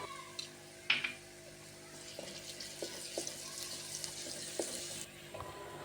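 Chopped onions frying in a pan for a vegetable curry: a soft continuous sizzle with occasional clinks and spoon scrapes, fairly faint and close.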